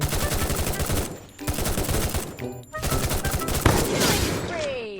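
Bursts of automatic gunfire from a ninja-themed video game fire in rapid, evenly spaced rattles, broken by two short pauses, loud and close, ending with a rising whine.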